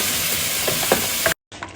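Garlic and ginger sizzle as they fry in a pot, a loud steady hiss with a couple of stirring scrapes before a brief cut, then the frying resumes.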